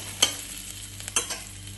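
Potatoes frying in very little oil in a pan, a soft low sizzle broken by two or three sharp metallic scrapes of a stirring spoon, brief and close.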